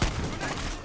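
A single loud shotgun blast from the video game Far Cry 6, a sharp close boom with a short rumbling tail.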